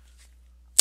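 A scored shelf board snaps once, a single sharp crack near the mic that rings out briefly after a quiet pause, heard alone with no talk.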